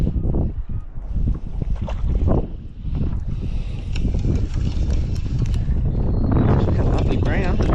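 Strong wind gusts buffet the microphone on a New Zealand river during fly fishing, a steady loud roar of wind noise with swelling low rumbles throughout, with some talking over it.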